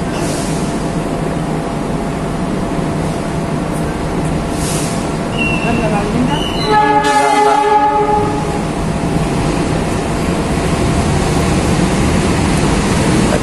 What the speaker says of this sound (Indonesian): Kereta api Ranggajati dari Jember kena tujuan Cirebon